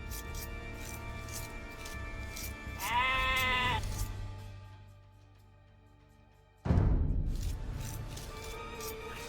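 Sheep in Age of Empires II bleat once in a short, wavering cry at moderate volume. A soft background game tone plays before it, and a sharper clatter of game sound follows after a brief near-silence.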